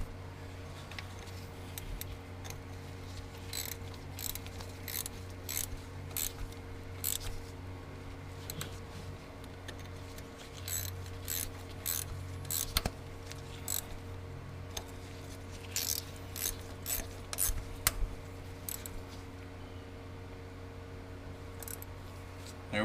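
Wrench clicking as a bolt is tightened on the hydraulic swing pump of a Kubota L48, with faint irregular ratcheting ticks in bursts over a steady low hum.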